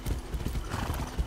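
Horse hooves clip-clop steadily in Far Cry 6, a close, moderately loud run of hoofbeats with a brief whinny mixed in.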